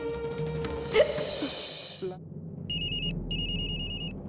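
Ringing phone: after a short stretch of indistinct vocal sound and a sharp gasp-like noise, a telephone ringtone starts, repeating in regular electronic bursts with brief gaps between them.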